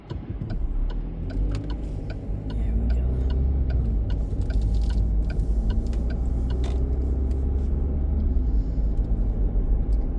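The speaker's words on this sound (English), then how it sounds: "Traffic is picking up a little bit." Road traffic rumbles steadily through a small town of about 4,000 people in Switzerland. A close, continuous low motor drone carries light, regular ticking clicks over it.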